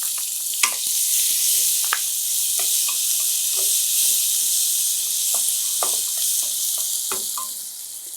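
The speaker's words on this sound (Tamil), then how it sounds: "வெங்காயம் சேர்த்துக்கிறேன்." Onions frying in hot oil in a pan, a steady loud sizzle and hiss with occasional soft scrapes and knocks from stirring, heard close and without talk.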